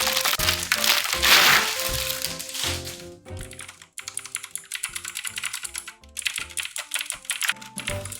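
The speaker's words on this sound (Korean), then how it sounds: "키보드는 블랙이도 V4 타건감 한번 봐야지" Close, crisp keystrokes on a Blackido V4 full-size keyboard with added macro keys, tapped in quick uneven bursts with short pauses between runs.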